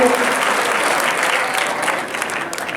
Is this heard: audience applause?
yes